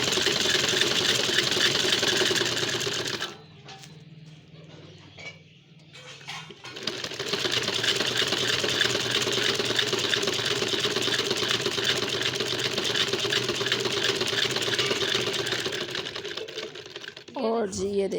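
Sewing machine stitching elastic into fabric, a fast continuous mechanical whirr that runs loud and steady, breaks off for a few seconds near the start, then resumes until the end.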